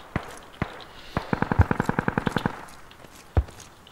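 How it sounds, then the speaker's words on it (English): Enemy machine gun fire in the Squad video game, a rapid burst of about a dozen evenly spaced shots preceded by a few single cracks and followed by one more shot, moderately distant against a quiet battlefield background. "Getting shot up by an MG."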